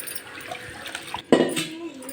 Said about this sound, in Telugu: చూడండి ఇలా వాటర్లో కడిగేసుకోవాలి ఫస్ట్